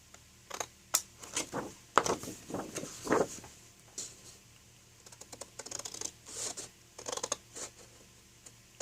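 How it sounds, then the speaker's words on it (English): Scissors cutting through card to shape a fudge box, a series of crisp, close snips and scraping rasps in irregular bursts with short pauses between them. "So I just kind of follow that humped line as the guide and cut those away"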